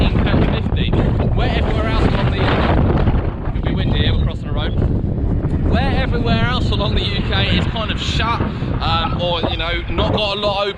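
Strong wind buffets the microphone in a steady low roar at Blackpool Pleasure Beach, with voices talking over it throughout.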